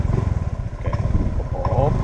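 A low, rumbling motorcycle engine runs steadily up close, its deep throb filling the whole clip with a faint mechanical rattle on top.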